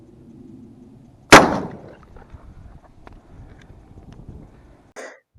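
A shotgun fires one sharp, loud blast of a Remington 28-gram sport cartridge loaded with 7.5 shot, with a reinforced full choke. The report decays quickly into quiet outdoor ambience, and a faint brief knock follows.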